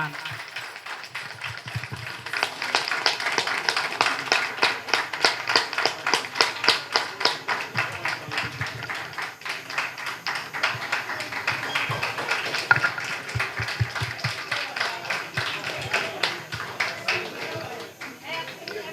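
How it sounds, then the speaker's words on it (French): An audience at a welcome address rises and claps loudly in honour of a woman, Madame Anne, a steady dense patter of hands lasting throughout, with voices mixed in. "je vous demande de vous lever pour applaudir fortement à Madame Anne"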